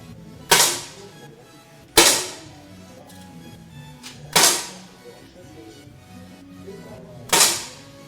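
Four sharp air rifle shots crack out one at a time during a shooting match, spaced a couple of seconds apart, each with a short ringing decay in an indoor range.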